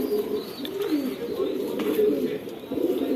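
A pigeon coos in low, repeated throaty phrases among a loft of birds, fairly close, with a steady murmur of other cooing around it.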